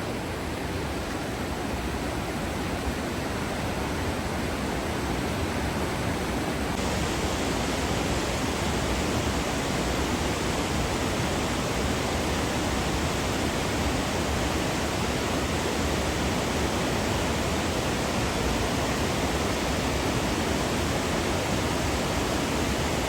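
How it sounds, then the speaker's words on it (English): Several small waterfalls spill through trees in a wooded spot, making a loud, steady broadband rush that holds constant from start to end with no voices. "basically there's 4 little waterfalls. 1, 2, the big one, and then one right over there through the trees."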